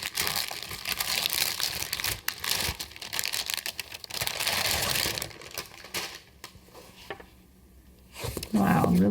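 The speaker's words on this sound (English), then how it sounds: "Oh, I wish I didn't have to ruin this nice sticker." A sticker seal on a sketchbook package is torn open with steady crinkling and ripping of paper and packaging at close range, followed by a quieter pause and then a voice.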